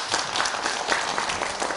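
Audience applause at a Korean literary concert, a steady dense wash of clapping from a crowd that holds at an even level throughout.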